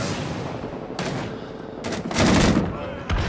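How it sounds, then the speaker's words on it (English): Rifle fire in Rising Storm 2: Vietnam, a few sharp broadband shots near 1, 1.8, 2.3 and 3.1 seconds, the loudest around 2.3 seconds, over steady battlefield ambience. "And we actually got a shot off there at least."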